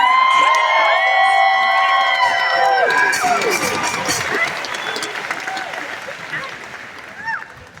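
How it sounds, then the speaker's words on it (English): A loud concert crowd at a show cheers, whoops and applauds together, with high shrieks at first, then the noise gradually fades. "can we give a huge round of applause to Paris for"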